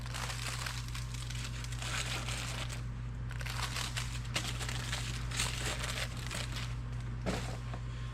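Paper crinkling from a piston ring package for a 1986 Ford F250 351 Windsor rebuild, a steady close rustle running throughout over a constant low hum.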